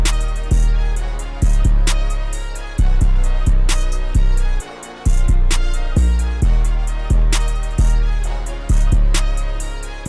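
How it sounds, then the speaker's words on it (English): A trap beat with booming 808 bass hits, a sharp snare and ticking hi-hats. It plays in a steady, bouncy rhythm, loud and up close, with a brief drop partway through. "So with the 808, the snare, and the hi-hat, it sounds like this."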